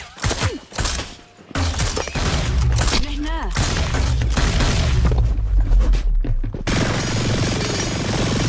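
Gunfire in the video game Hyper Scape, dense bursts of shots and impacts layered over game music and effects, loud and sustained through most of the stretch with a brief lull early on.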